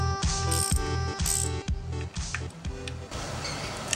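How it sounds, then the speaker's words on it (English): A ratchet loosens the clutch springs on a motorbike. A close series of rhythmic metallic clicks comes in quick strokes, followed by a rougher rattle. "To remove the clutch springs, use a ratchet in a diagonal fashion."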